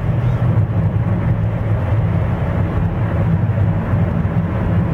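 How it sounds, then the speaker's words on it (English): A Nissan car engine at wide open throttle gives a loud, steady, low droning roar heard from inside the cabin, unbroken for the whole stretch with no talking. "and I'm gonna go wide open throttle"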